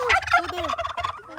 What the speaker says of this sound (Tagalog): Yan o, goose.